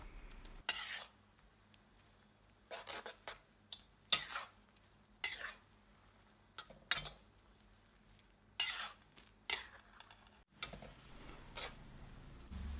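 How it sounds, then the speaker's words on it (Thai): Glass noodles with egg, shrimp and fish sauce being stir-fried in a pan: a dozen or so sharp, uneven scrapes and clinks of a spatula over a low, steady sizzle, with no talking. "หลังจากนั้นผัดให้ทุกอย่างเข้ากันค่ะ"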